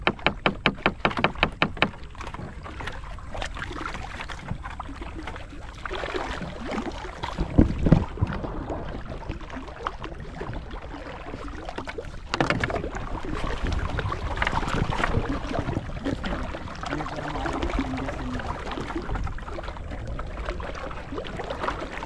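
A small Philippine bangka boat moves on water with a steady churning rumble and wind buffeting, a few sharp clatters early and bumps midway.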